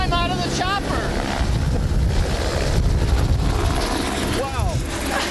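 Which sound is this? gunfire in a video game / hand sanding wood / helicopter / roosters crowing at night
helicopter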